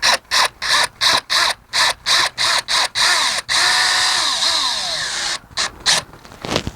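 A power drill driving screws into a Trex deck railing whirs in a rapid series of short pulses, then runs in one long sustained drive before a few more quick bursts, loud and close.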